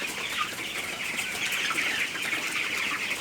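A flock of broiler chickens on a farm clucks and chatters steadily at moderate distance, a busy overlapping chorus with occasional wing flutters and no speech.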